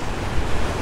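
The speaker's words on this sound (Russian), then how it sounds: "Кстати, волны и здесь большие." Large storm waves break on a beach at Fiolent, near Sevastopol, making a steady, loud roar of surf with wind noise throughout and no pauses.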